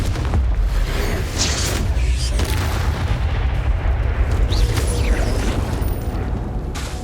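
Confringo blasting spells in Hogwarts Legacy go off as dense, booming explosions. Deep rumbles and crackling debris carry on continuously and loudly, layered over one another through a chaotic fight.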